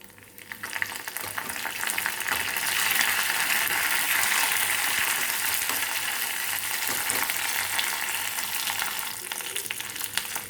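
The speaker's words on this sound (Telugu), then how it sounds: "పోపు కూడా మాడకుండా చూసుకోండి, దోరగా వేగాలన్నమాట" Curry leaves and spices, fenugreek seeds among them, sizzle and crackle steadily in hot oil for a Telugu-style tempering, a dense close frying hiss with small pops and scrapes of stirring throughout, with no talking.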